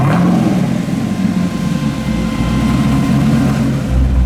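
The engine of a twin-turbo 1500+ hp 1969 Camaro pro touring build roars loud and close for several seconds, a strong, steady, low rumble with a harsh edge as it holds high revs.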